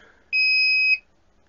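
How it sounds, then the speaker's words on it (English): A Fluke voltage tester from the T-series gives one long, steady electronic beep lasting about two-thirds of a second as it switches off. The tone is clean and close, with a bright overtone above it, and it stops abruptly into quiet. "push a little bit longer and you hear a long beep and then it's off."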